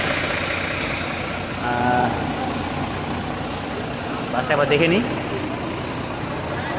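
A long-distance bus idles at Dharmatala amid street traffic, a low, continuous engine rumble, with people talking nearby and a brief horn-like tone rising over it.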